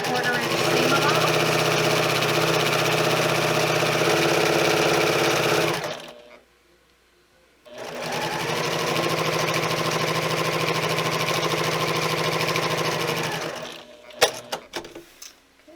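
A sewing machine stitches a quarter-inch seam allowance on a zipper cosmetic bag, a steady close whirring run that stops briefly, resumes for several seconds, then gives way to a few handling clicks.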